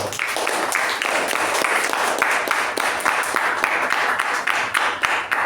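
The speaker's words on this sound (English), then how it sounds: "Let's give a round of applause to them." Applause for newly installed members at a communication club meeting: a dense, steady wash of many hands clapping close by, sustained at an even level throughout with individual claps poking through.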